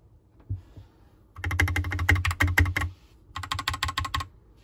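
Mechanical keyboard typing on a Magic Refiner MK31 with linear switches: two quick bursts of dense, deep clacking keystrokes, close and loud, separated by a short pause with no talking.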